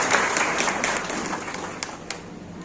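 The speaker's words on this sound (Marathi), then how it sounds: "या सर्वांसाठी एक जोरदार टाळ्या" Audience applause at a Nandurbar district student award felicitation ceremony, a steady moderate wash of many hands clapping that fades slightly toward the end, with no voices over it.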